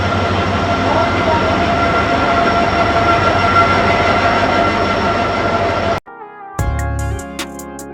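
A train at a station in Guwahati during heavy rain gives a loud, steady rumbling roar for several seconds, then cuts off abruptly to quieter tonal chimes.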